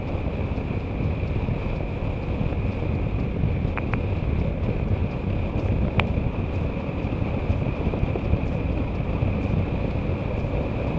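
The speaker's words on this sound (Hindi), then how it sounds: "विंड ब्लास्ट है थोड़ा सा सामने से" Steady roar of wind blast and crosswind buffeting a motorcycle ridden at full throttle on a straight expressway, loud and continuous throughout with no talk.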